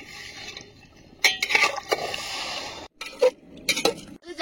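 Mango pickle being stirred in a pot over a wood-fired stove, with scraping and clinking of a spoon against the metal in short bursts, close and fairly loud, with brief pauses between strokes.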